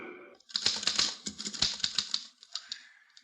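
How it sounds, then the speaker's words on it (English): A typewriter clatters in a rapid run of sharp mechanical keystrokes, loud and close, with no voices over it. "Here's a typewriter. Your secretary uses one."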